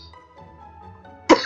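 A sick streamer playing Pokémon Let's Go Eevee lets out one sharp, loud cough near the end, after a stretch of faint, low background sound.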